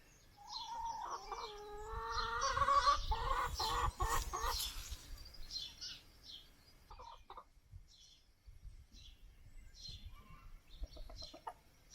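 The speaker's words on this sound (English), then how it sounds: "Here goes the cockerel now." Chickens cluck and chatter nearby as a cockerel joins the flock, its drawn-out calls rising over the flock amid soft rustling and scattered clucks.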